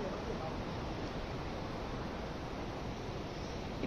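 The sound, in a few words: river flowing below the road to Gangotri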